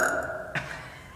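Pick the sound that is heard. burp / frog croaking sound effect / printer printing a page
burp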